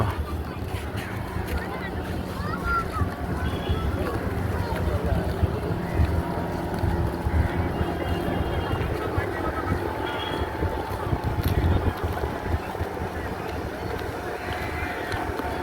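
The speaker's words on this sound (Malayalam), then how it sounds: "അങ്ങനെ സ്പീഡ് ബോട്ട് വരുന്നു." Loud, continuous engine and water rush of a speedboat moving by at Calicut beach in Kozhikode, Kerala, with wind buffeting the microphone and people talking over it.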